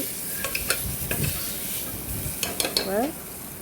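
Ingredients for a crab soup frying in hot oil in a pan, a soft continuous sizzle broken by a few scraping stirs and light clinks of utensil against pot, heard up close with no speech.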